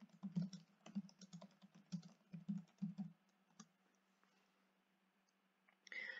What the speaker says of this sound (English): Type in Ken Saro-Wiwa LibGuide